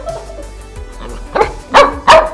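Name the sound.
puppy barking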